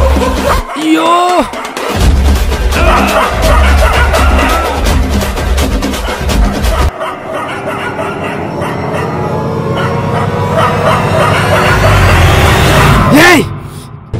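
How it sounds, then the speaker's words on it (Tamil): Dogs bark and yip in a Tamil comedy skit, loud sharp barks clustered over the first half amid shouting voices, with people talking throughout. "ஐயோ, இந்த நாய்ங்க வர."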